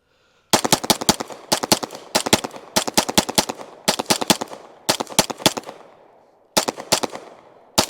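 Staccato HD P4 pistol fires 50 rounds in quick strings of four or five sharp, loud, close shots, each burst separated by brief pauses, echoing outdoors with no talk over it.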